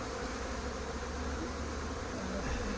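Honeybees buzz in a dense, continuous drone in front of hives at an apiary, a steady swarm hum with no pauses and no voices.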